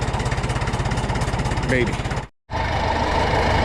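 A tractor engine, probably a 2470, chugs with a steady low throb close by. A person briefly speaks over it and the sound cuts out for a moment before resuming.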